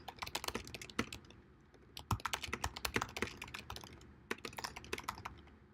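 Rapid, uneven clatter of keys on a computer keyboard as a review is typed, with bursts of close, crisp keystrokes and brief pauses between phrases.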